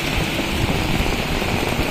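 Steady rain falls in Dhaka during Cyclone Remal, a dense, even wash of noise that holds constant throughout, with no distinct drops or voices standing out.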